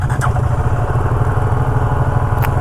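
A BSA Goldstar 650 motorcycle's single-cylinder engine runs loud and close right after starting, a steady throbbing idle with fast mechanical pulsing and a brief click near the start and end.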